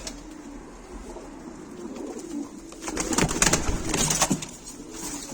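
Pigeons, including Sabuni and Gök breeds, cooing nearby, low soft calls that swell and grow busier halfway through, mixed with wing flutters and light rustling.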